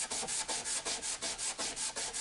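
Fine Scotch-Brite pad rubbed briskly over the metal surface of an ElmaGrav engraving machine, close-up, in an even rhythm of about ten strokes, with no talk.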